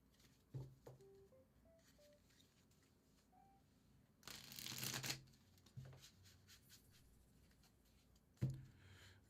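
A tarot card deck is shuffled by hand in a quiet room, giving a dense burst of riffling card flutter in the middle, with light taps and handling of the cards before and after.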